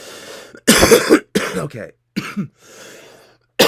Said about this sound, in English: you get me coughing and all distracted now